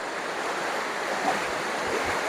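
Steady, broad rushing of the Oliyarik waterfall near Anchal, close and continuous, with a soft wind-like roar blended in throughout.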